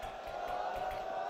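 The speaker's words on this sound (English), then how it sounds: "you can hear the crowd" Crowd cheering at a CS2 esports grand final, a steady roar of many voices heard from a distance behind the game sounds.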